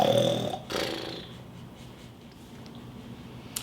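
A person imitates sleeping babies snoring, with a couple of soft, breathy rasps near the start that trail into quiet; no other talking.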